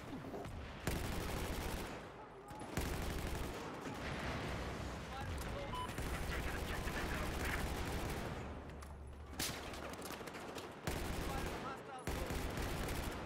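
Sustained automatic gunfire in the Battlefield 4 video game rattles on in dense bursts, broken by brief pauses, with a voice faintly under the shooting.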